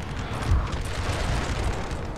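Cannons boom across a battlefield near Vienna in the video game Napoleon: Total War, with deep, muffled rumbles and low thuds rolling continuously at moderate distance under a dense battle ambience.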